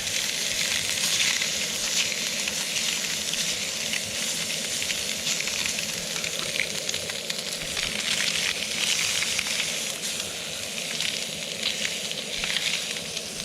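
Butter sizzles steadily in a frying pan as trout cooks outdoors on the ice, a loud continuous frying hiss with crackles throughout and no talking.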